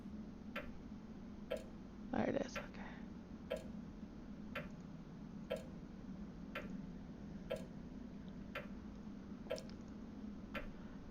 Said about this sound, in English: Okay, it's a grandfather clock.